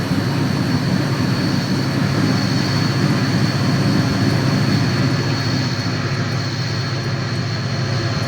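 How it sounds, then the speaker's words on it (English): A steady, loud Amtrak F40PH locomotive drone in Train Simulator, with a constant high head-end power whine on top, unbroken and close, with no voices. "Sounded like that blue F40 had its head-end power on"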